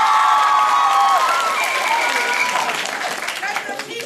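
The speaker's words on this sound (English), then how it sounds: "Applaud now." Audience applause at a school comedy sports match between teachers, a dense wash of clapping from a crowd that swells, then thins out over a few seconds.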